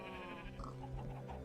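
Sheep bleating in a farming video game, with several wavering bleats overlapping one another at a steady, fairly close level and no talk.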